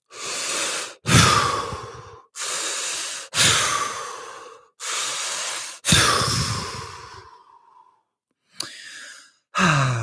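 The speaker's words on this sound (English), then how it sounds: "Taking 3 big breaths in and out the mouth." Several deep breaths drawn in and pushed out through the mouth during a relaxation stretch, long audible inhales and exhales alternating with short silent pauses, close and loud.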